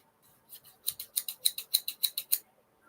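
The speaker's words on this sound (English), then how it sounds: "Fresh new scissors." New scissors cutting, a quick run of about a dozen crisp, close snips in a steady rhythm, growing louder then easing off, alone in a quiet room.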